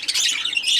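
A pet bird lets out one harsh, raspy squawk, close and loud, lasting under a second with no other sounds around it.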